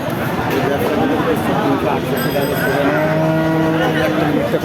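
Cattle at a busy livestock market where Indian bullocks are being sold, with low lowing and moos mixed into a loud crowd hubbub of people talking and bargaining close by.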